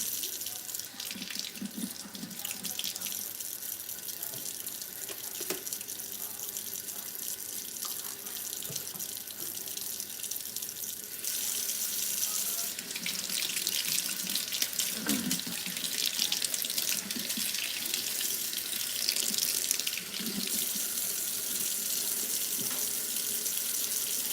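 A tap runs steadily while water is gathered for a dog's bath, a close continuous splashing stream that grows louder partway through, with faint sounds of movement around it.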